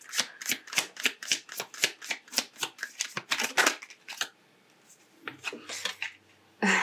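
Tarot cards riffled and shuffled in quick, even bursts of close, crisp flutters for several seconds, then a pause and a few looser shuffles at the end.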